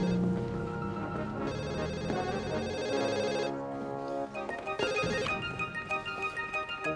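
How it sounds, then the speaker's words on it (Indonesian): A telephone rings inside a house with an electronic ringtone melody, loud and close, playing in repeated bursts with a short pause between them. "Ada telepon, Pak."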